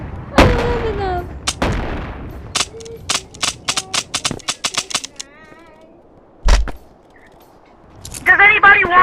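Shotgun blasts in the Animal Company video game, sharp separate shots that start scattered and then fire in quick bursts, loud and close, with voices and chatter breaking in between.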